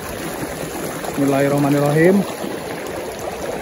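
Water streams over and around rocks in a rocky riverbed, the Kali Lampir river, a steady broadband rush running throughout with someone speaking briefly over it in the middle.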